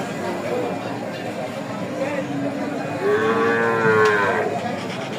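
Cattle at the Hazratpur cattle market moo in long, rising and falling calls, a loud bellow swelling near the end, over a crowd murmur of voices.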